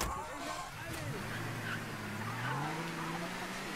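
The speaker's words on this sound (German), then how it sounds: "Jetzt ziehe ich aber mit dem Auto davor." A car drives in the Mafia III video game, its engine droning and rising in pitch under steady game noise, with someone talking over it throughout.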